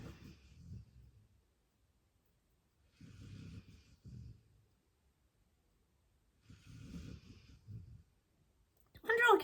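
Two sleepers snore in the background, three slow rhythmic rasping breaths spaced a few seconds apart, quiet and near, with a brief louder noise at the end.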